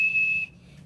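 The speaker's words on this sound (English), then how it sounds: "Blackbird whistled the start of the race." A single sharp, high whistle blast starts a race, shrill and steady for about half a second before cutting off, heard alone.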